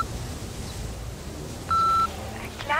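A single steady electronic answering machine beep, lasting about a third of a second, sounds clearly over quiet room tone just before a message plays.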